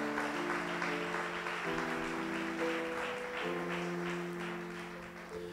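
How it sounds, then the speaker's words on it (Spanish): A church congregation claps steadily through a morning service while sustained keyboard chords play underneath, the applause loud and continuous before tapering slightly at the end. "Dale otro aplauso fuerte a Dios en esta mañana."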